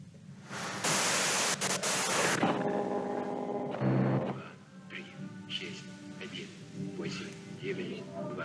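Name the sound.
white noise static in the video game Disco Elysium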